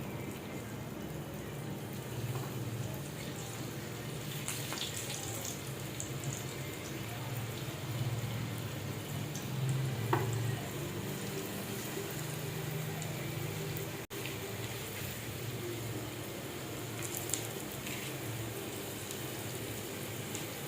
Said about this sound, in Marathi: तर आता हे पिठात बुडवलेले मासे आता ह्याच्यामध्ये मी टाकणार आहे तळण्यासाठी